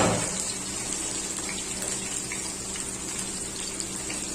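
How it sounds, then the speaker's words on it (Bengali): Garlic poured into a hot pan while cooking Bangladeshi dal, giving a steady, loud hissing sizzle that runs throughout without a break. "এই যে রসুনটা ঢেলে দিলাম।"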